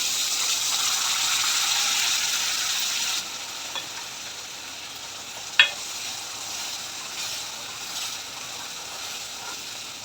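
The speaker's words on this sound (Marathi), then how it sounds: "एक टोमॅटोची प्युरी केलेली होती आपण ती प्युरी पण टाकून देऊ" Tomato puree added to frying masala and stirred for a jackfruit bhaji, with a loud hiss-and-sizzle for the first three seconds, then a softer steady fry, one sharp clink of a spoon near the middle and faint stirring scrapes.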